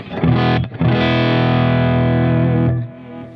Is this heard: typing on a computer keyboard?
no